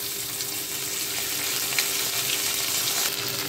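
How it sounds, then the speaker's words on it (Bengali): Ginger garlic paste frying in hot oil with garam masala for a potato and soybean curry, giving a steady, close, even sizzle with a faint hum underneath and no voices. "গরম মশলা ভাজা প্রায় হয়ে গেছে। এখন আমি দেব 1 টিস্পুন আদা রসুন বাটা।"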